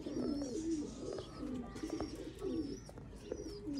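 Sialkoti pigeons coo close by in soft, repeated throaty rolls that overlap almost without pause, with several birds calling together and no talking.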